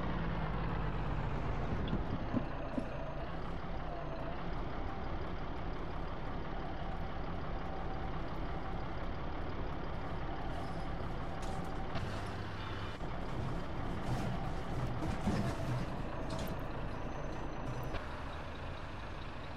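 Jelcz 080 bus running in the OMSI driving simulator, its engine droning steadily and the gearbox working beneath it, with a brief hiss near the end that resembles an air brake. No one speaks.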